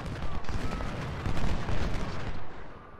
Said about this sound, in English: Ooh, okay, that's artillery.